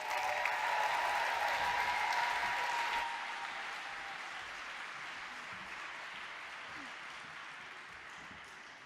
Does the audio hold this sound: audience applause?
yes